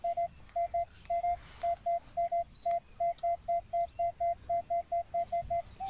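A metal detector sweeping over a small buried object in muddy ground gives a steady run of short, evenly spaced beeping tones, about two dozen in a row, clear and alone.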